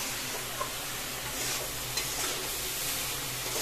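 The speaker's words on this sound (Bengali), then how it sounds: "আগে একটু ভেজে নিচ্ছি," Young jackfruit and boiled potatoes fry in a pan with spices, making a soft, steady sizzle with faint stirring scrapes, close and low in level.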